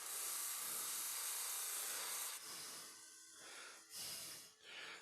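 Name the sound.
lathe buffing wheel spinning with rouge applied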